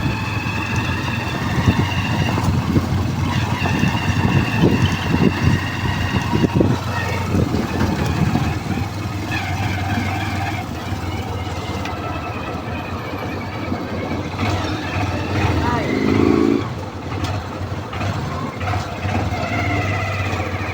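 A motorized tricycle's engine runs steadily as it drives along a road on a hot, dry afternoon, a continuous close rumble with a low drone that shifts slightly in pitch over about twenty seconds.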